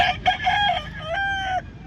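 A white gamecock at a game farm lets out one full, close crow: a loud, ringing cock-a-doodle-doo lasting nearly two seconds.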